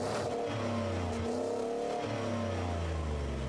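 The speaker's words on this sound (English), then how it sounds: "The muffler and resonator really hold back the sound of this V8." A 2022 Ford F-150's V8 rumbles through its stock muffler and resonator, a loud, deep, muted exhaust drone that swells in two revs, then settles back to a steady idle.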